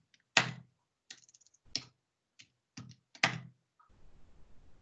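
Keys tapped on a computer keyboard: a handful of separate clacks and one short burst of light clicks spaced over a few seconds, close and fairly quiet, with faint low background noise at the end and no speech.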